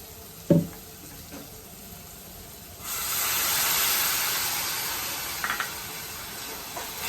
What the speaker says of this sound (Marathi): एक वाटीभर पाणी मी घालणार आहे